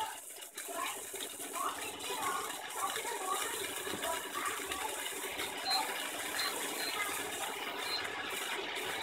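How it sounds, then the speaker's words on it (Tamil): Rava dosa sizzles in a pan after oil and ghee are added, giving a steady, fairly faint hiss and crackle that runs continuously throughout without any clear talk. "இப்போ நல்லா எண்ணெய் ஊற்றிக்கணும்."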